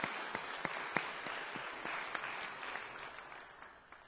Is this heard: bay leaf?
no